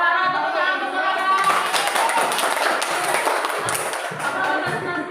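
Classroom applause for a presenter during a school teaching session, a dense continuous patter of many hands clapping with mixed voices and shuffling underneath.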